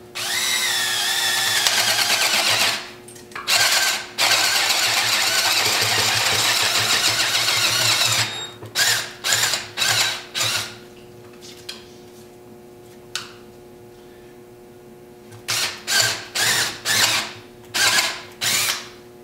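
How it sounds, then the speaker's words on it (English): A power drill with a half-inch bit bores through log bark, whining steadily for several seconds, then running in a series of short, sharp bursts with brief pauses between them, close and loud. "I'm going to drill this right through the bark."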